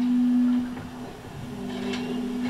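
Quiet marina ambience at 1 a.m. from a pontoon, with a steady low hum, faint lapping and occasional small knocks, calm and distant throughout.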